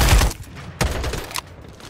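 Gunfire in the video game Farlight 84, loud bursts of shots near the start, then two more sharp volleys with a lighter crackle of fire between them, no voices.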